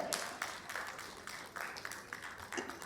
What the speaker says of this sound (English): we need a big round of applause